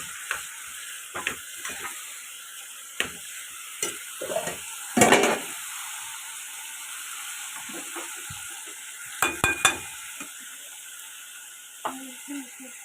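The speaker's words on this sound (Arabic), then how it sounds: "الطشه زي طشه الملوخيه كده، هي دي طشه الكبده" Garlic tempering sizzling in hot oil for Alexandrian-style fried liver, a steady frying hiss punctuated by sharp clatters of a spoon stirring in the pan, close and continuous.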